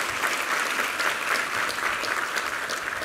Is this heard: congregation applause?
yes